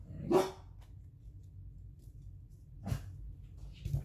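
A dog gives three short barks spaced apart, the first loudest and the others softer, over quiet room background with no talk.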